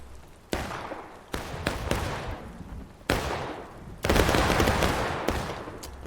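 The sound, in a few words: musket volley gunfire from a video game battle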